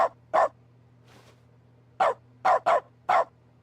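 A dog barks in The Stanley Parable video game, six loud, close single barks arriving in an uneven rhythm with short silent gaps, one fainter bark in between.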